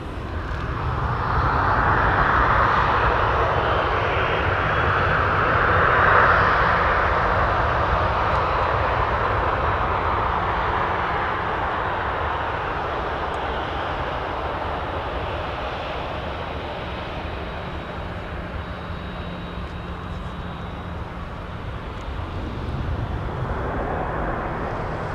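A Boeing 737 lands at MSP airport, heard as a broad jet roar that swells near the start and then slowly fades into a steady, distant rumble.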